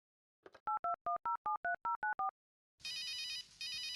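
Telephone tones in the game Runaway: A Road Adventure: a quick run of about nine short, even two-tone dialing beeps, then a pause and a steady, loud, bright tone that breaks briefly before resuming, with no voices.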